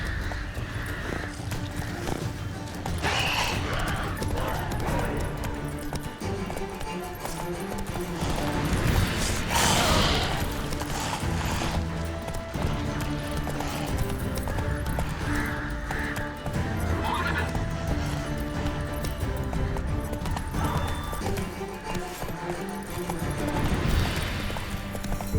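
Horse galloping and neighing in The Witcher 3: Wild Hunt video game, steady hoof clip-clop with occasional whinnies layered over game music and ambience, continuous at moderate level.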